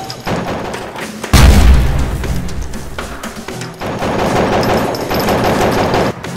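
Nerf blasters fire in a loud toy-war skirmish, with a heavy impact thump and then a steady stream of rapid, clattering shots that continues almost throughout.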